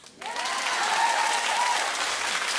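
A studio audience in Detroit breaks into loud, sustained applause that swells in sharply at the start and holds dense and even, with cheering mixed into the clapping.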